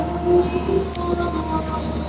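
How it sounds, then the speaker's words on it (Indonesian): A train pulling into a railway station, heard as a continuous low rumble and rolling clatter with faint metallic squeals, steady and fairly loud throughout. "Oh, ada kereta masuk kayaknya tuh."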